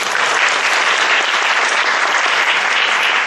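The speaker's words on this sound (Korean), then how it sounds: "박수 좀 부탁드립니다." An audience at a conference talk applauds a classical guitarist, a music conservatory graduate student, with loud, dense, continuous clapping filling the whole stretch without talk.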